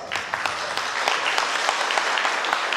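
Audience applause at a village folk customs and traditions festival in Dofteana, Romania, welcoming a debuting taraf band; crisp, fairly close clapping from a crowd, dense and continuous with individual sharp claps standing out.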